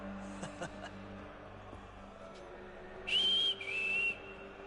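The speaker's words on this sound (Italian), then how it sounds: "Fischiava, pensavo fosse un segnale di qualche tipo" A person whistles inside the video game Assassin's Creed 3, with two short tonal whistles near the end over a low ambient game background.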